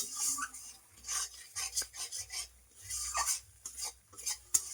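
Thick spice paste with ground coriander being stir-fried in oil in a pan, with repeated scraping and rubbing strokes of a spatula against the metal, close and fairly quiet, no talk.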